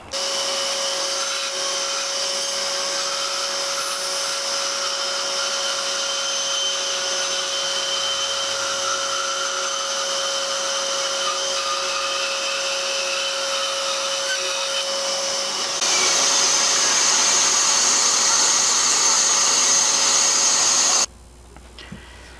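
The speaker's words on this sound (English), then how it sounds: "what I'm going to do here is cut this using the bandsaw just carefully" A bandsaw runs steadily while carefully cutting a plywood piece for a scrap-wood key holder, a continuous close whine with a steady tone that rises slightly near the end and then stops abruptly.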